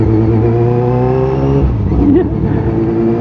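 A noisy vehicle engine drones steadily and loudly throughout a night ride, with a constant low hum and a slight shift in pitch partway through.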